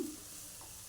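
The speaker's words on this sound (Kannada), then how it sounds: "ಇದು ಚೆನ್ನಾಗಿ ಫ್ರೈ ಆಗಬೇಕು." Curry leaves sizzling in hot oil in a pan for a curry leaf fried rice, a soft, steady crackle that runs the whole second without pause or voices.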